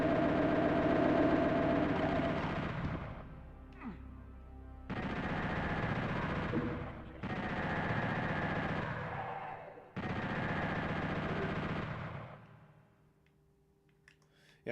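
Rapid automatic bursts from a chain gun in Doom, the PS1 custom edition, come in four long sustained volleys separated by brief gaps, loud and close, before the firing stops.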